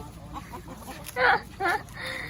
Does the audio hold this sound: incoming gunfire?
no